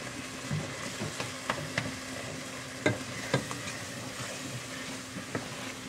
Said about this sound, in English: To put some shrimp and the okra.